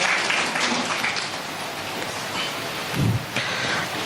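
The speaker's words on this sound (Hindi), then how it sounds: "जोरदार ताली दें हमारे इस यूथ भाई के लिए।" Broad, steady applause from a church audience at a youth service, cheering a young performer; a dense wash of clapping that holds evenly for several seconds, with a brief low thump near the end.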